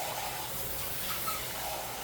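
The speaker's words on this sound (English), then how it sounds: "Okay, so I rinsed my pan out." Water from a kitchen tap runs steadily as a frying pan is rinsed out while pork chops cook, a soft continuous wash with no talking over it.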